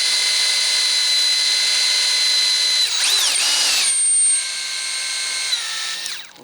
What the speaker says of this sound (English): okay, time to drill the other one.